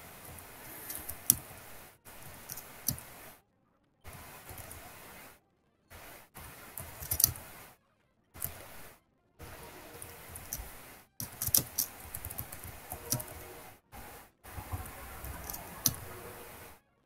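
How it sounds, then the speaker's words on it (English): Quick mouse clicks tapping through a Pokemon Emerald randomizer battle, bursts of light clicks broken by short silent gaps, faint and close. "I am just spam clicking to get through this battle"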